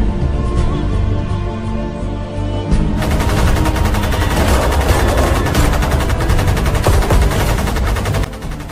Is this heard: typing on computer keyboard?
no